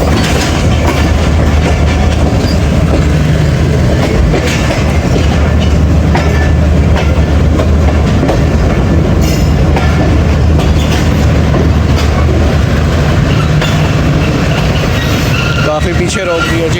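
The 13 Up Awam Express runs on rails on its approach to Lala Musa Junction, a loud, continuous rumble and rattle of wheels and carriages with steady low droning throughout, and voices are faintly audible over it.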